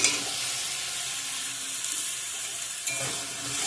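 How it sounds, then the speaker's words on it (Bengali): Soaked potato and cauliflower pieces hit hot oil in a pan and sizzle loudly and steadily at close range, with a brief stir partway through. "ভিজে রাখা আলু ফুলকপিগুলো দিয়ে দিব এখন"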